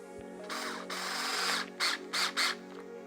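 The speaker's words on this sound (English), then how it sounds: "we're not drilling the screws all the way in, just enough so they hold" A power drill drives screws into the front brake disc of an Apollo Explore electric scooter during a brake replacement, with one long whirring run followed by three short, sharp bursts, close and clear with no talking.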